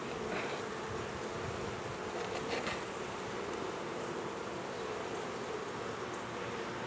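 Honeybees buzzing at a hive in cold weather, a dense, steady drone of many insects up close, loud and continuous with no voices.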